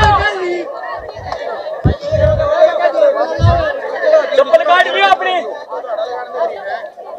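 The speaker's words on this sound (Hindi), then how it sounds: "बहुत ज़बरदस्त भीड़ है।" A large, dense crowd at Mokhra Dham, many voices chanting and shouting together in a loud continuous roar, with a nearby voice rising over it in short bursts.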